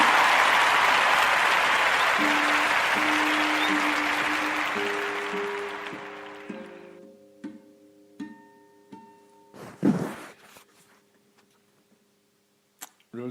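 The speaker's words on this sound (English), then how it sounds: "Can you hear the studio applause?" Studio audience applause sound effect, a loud dense wash of clapping that fades out over about seven seconds, leaving scattered faint clicks and a brief thump before near silence.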